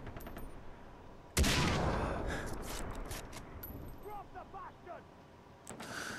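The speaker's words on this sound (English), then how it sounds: "Let me just shoot him. Sniper rifle strong enough." A single loud rifle crack from a sniper rifle in Far Cry 3 lands sharply and decays into a ringing tail, followed later by another sharp report. Game ambience and faint effects run underneath.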